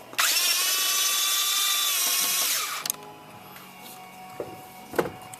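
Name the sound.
removing 8mm head bolts from Ford Powerstroke EGR valve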